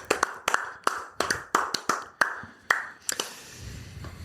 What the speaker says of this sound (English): congratulations, round of applause to our good friends Josh and Katie for having their baby girl Za